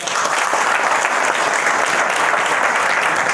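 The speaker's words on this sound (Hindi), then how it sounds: "एक बार पहले नए लोगों के लिए जोरदार ताली बजाओ।" A large seminar crowd applauds loudly and steadily for newcomers, a dense unbroken wash of clapping from many hands throughout.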